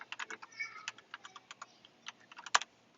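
Arrow keys clicked on a keyboard used with an iPad, a quick run of close, crisp taps with one louder press near the end.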